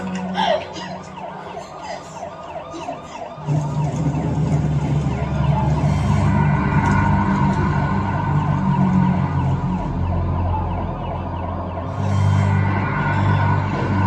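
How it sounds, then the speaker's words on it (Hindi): A loud ambulance siren wails continuously over heavy traffic-like rumble, with brief voices early on and the wail swelling again near the end. "चलाओ एम्बुलेंस को"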